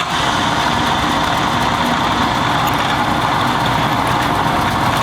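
A drill press boring a hole in metal for a garden trowel, a loud, steady machine drone with a continuous grinding hiss and no pauses or voices.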